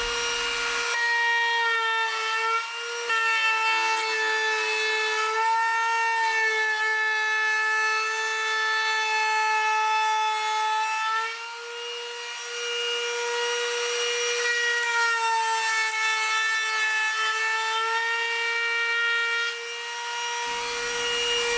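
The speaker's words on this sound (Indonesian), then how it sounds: "trimming edging PVC setebal 2 mm dilakukan dengan lancar dan juga nggak ada drop RPM atau drop power ya" A Mollar CWT20350-U cordless trimmer routes along 2 mm PVC edging for HPL furniture, a steady high-pitched motor whine that holds speed without dropping, loud and sustained with brief dips in between.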